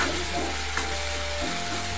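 Masala for chana dal fries in a pan in a village kitchen in Rudraprayag, Uttarakhand, giving a steady, close hiss and sizzle with a low hum underneath and no voices.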